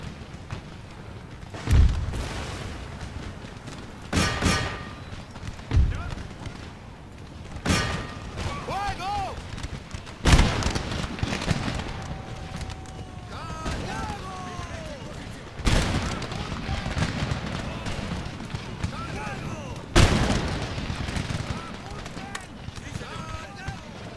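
Cannon and musket fire on an Empire Total War battlefield, scattered loud booms and crackling volleys at irregular intervals amid battle din, with someone talking over it.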